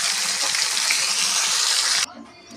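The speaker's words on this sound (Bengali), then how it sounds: "মাছটাকে ভালো করে ভেজে নিন।" Masala fish spiced with red chilli powder fries in a pan, a loud, dense hiss of sizzling oil that cuts off abruptly near the end, leaving a faint quieter sizzle.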